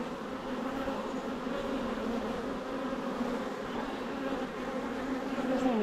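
Honey bees buzz around an open hive during an inspection, a dense, steady drone of many insects close by, swelling slightly toward the end.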